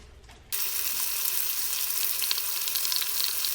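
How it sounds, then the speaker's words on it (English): Pork chops browning in melted butter over medium-high heat, a loud, steady sizzle that bursts in abruptly after a brief quiet moment and keeps crackling to the end. "we're going to brown the pork chops about 2 minutes on each side"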